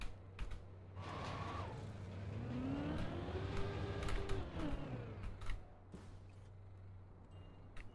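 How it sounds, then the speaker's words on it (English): A racing car engine in the video game Trackmania revs up and winds down in a rising-and-falling whine, with clicks and mechanical clatter around it, fairly quiet and without talk. "I need to hear when the car slows down."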